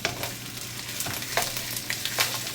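Cabbage stir-fried in a hot oiled pan, a steady sizzle with scraping and tossing strokes of a utensil at close range.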